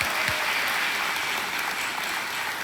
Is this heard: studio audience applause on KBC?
yes